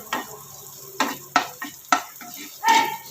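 Curry leaves fry in hot oil for Mumbai-style batata vada, with a soft sizzle under several sharp scraping stirs of a spatula against the pan.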